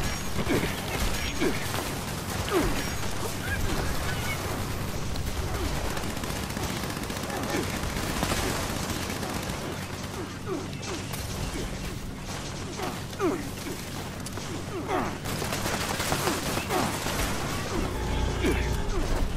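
Gunfire from the video game Fallout 76 sounds as sharp bursts and mechanical clatter over a busy background of game sounds. Players talk throughout.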